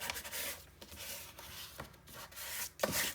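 Paper being burnished onto a page of a Stamperia Brocante Antiques mini album, heard as soft, close rubbing strokes in repeated passes with brief pauses between them.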